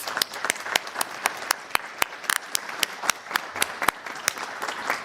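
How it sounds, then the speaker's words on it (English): An audience at a cybersecurity panel event applauds the panelists with steady clapping, individual sharp claps standing out over a continuous bed of hands. "let's give them all a round of applause"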